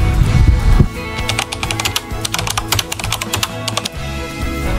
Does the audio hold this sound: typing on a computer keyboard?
yes